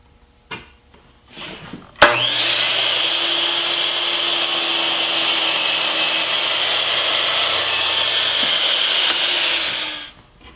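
A power saw cuts a miter across a 1x2 wood piece for a ping pong tabletop, starting abruptly with a loud, steady whining cut that holds for about eight seconds before winding down, with faint handling noises before it.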